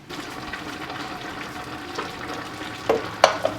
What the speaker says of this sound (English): Stir regularly while you're doing this so that the gelatin gets added in evenly